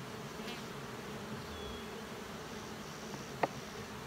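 Honeybees drone continuously in an open multi-queen hive, a soft steady buzz of many insects heard close, with a brief faint click near the end.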